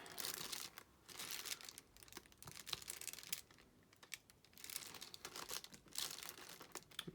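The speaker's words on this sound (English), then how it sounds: "Sorry about all the crinkling noise, there's nothing really I can do about that because we're right at the edge of the mat" Plastic film crinkles and rustles at the edge of a diamond painting mat, in quiet, close bursts of crackling with short pauses.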